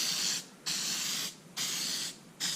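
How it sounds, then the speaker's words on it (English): Three bursts of hissing aerosol aluminum spray paint, each lasting under a second, separated by short pauses, close to the microphone. "I'll spray the whole thing with aluminum."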